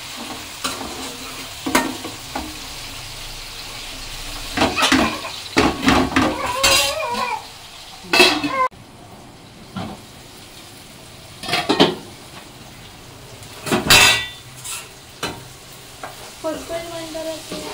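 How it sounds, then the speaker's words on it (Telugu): Chicken and onion sizzle in a pot, with repeated loud scrapes and clinks of a spoon stirring against the metal at an irregular pace, each burst of stirring followed by a steady low sizzle. "ఉల్లిపాయ కూడా చికెన్లో మగ్గాలండి."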